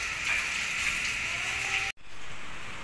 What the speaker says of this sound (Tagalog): Umuulan na naman po dito mga kamason.